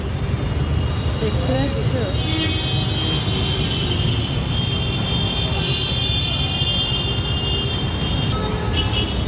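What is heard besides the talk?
road traffic at night, vehicles passing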